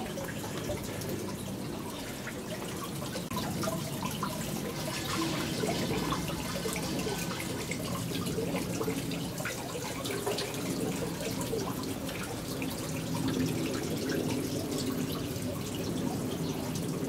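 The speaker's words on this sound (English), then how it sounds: "Cleansing water." Cleansing water at a Buddhist temple in Japan runs and trickles steadily, a continuous splashing flow with faint drips, heard alone throughout at a moderate level.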